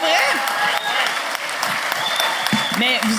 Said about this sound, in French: on peut-tu les applaudir?